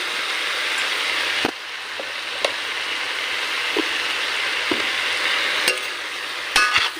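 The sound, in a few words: spices frying in a pan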